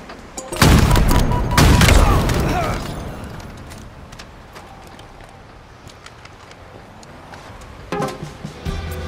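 Gunfire and explosions in the Halo video game, with two loud booming blasts close together at the start, then a quieter stretch of scattered shots and rumble before more firing near the end.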